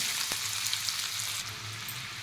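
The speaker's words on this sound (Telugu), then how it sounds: "మీడియం సైజు ఉల్లిగడ్డ ఒకటి సన్న కట్ చేసుకొని వేసుకోవాలి" Thinly sliced onion fries in hot oil with crackling tempering seeds, a steady close hiss and sizzle with a single sharp tap near the start and no talking.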